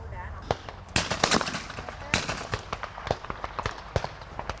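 Sharp shotgun blasts ring out in quick irregular succession at a 5-stand clay shooting event during a national-level championship, some loud and close, others fainter and farther off, with a voice talking underneath.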